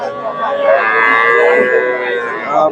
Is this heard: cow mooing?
yes